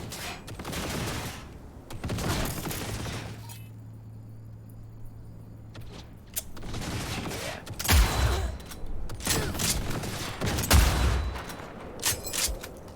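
Bursts of automated turret gunfire crackle in Cyberpunk 2077, coming in several loud rapid volleys separated by quieter gaps, with faint mechanical whirring between them.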